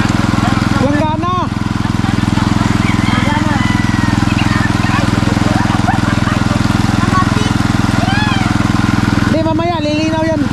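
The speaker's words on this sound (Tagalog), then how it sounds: "Water pump kasi yung gamit." A small engine drives a water pump, its motor wet after the pump struck a spring, running loud and steady with a constant drone throughout while people talk over it.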